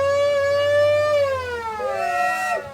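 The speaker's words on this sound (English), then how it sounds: "the old siren? You gotta be kidding." A single loud mechanical siren winds up in a steady high wail, then slides down in pitch as it winds down, heard alone.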